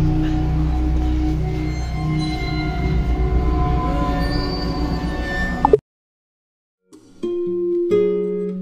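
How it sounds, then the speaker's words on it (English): A train to Busan, Korea, rumbles loudly with droning tones and clatter, then cuts to silence before faint tonal sounds return. "train to Busan."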